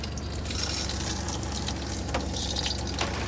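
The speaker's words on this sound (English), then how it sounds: "The water in the shower," Shower water runs inside an RV, a faint, steady hiss and spatter with no voices over it.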